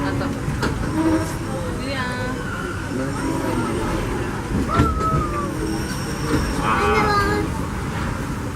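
A Disneyland Railroad excursion train pulled by the C.K. Holliday #1 steam locomotive gives a steady rumble of wheels and cars with squealing tones and a whistle-like cry, while voices talk over the ride.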